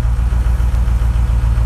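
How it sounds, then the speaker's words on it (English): A 2007 Ford Powerstroke diesel truck engine with a dead turbo idles steadily with its idle raised slightly to about 950 RPM, a low, even, rhythmic rumble throughout with no talking. "we can turn the idle up just a hair."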